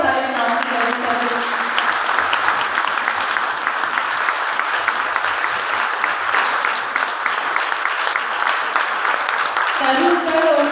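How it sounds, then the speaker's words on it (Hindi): Loud applause from an audience at a Modicare business training and success event in Rajasthan, a sustained dense round of clapping that runs the whole stretch, with brief speech audible at the start and end. "जोरदार तालियां"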